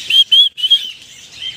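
A large parrot in an aviary at Maharajbag Zoo, Nagpur, gives three quick, shrill calls in a burst, followed by a fainter trailing call.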